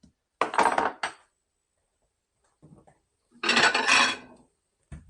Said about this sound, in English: I want to cut this in half and make basically 2 steaks out of it